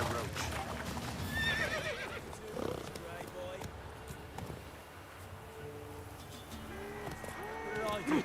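Roach the horse in The Witcher 3 neighing and whinnying, with clip-clop hooves on the ground and speech heard between the sounds, fairly close and loud.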